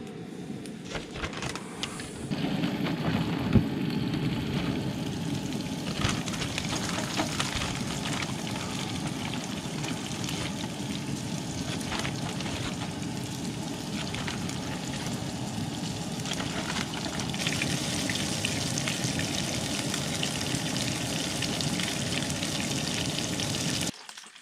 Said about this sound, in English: We got some oil frying with some garlic still in there from earlier today.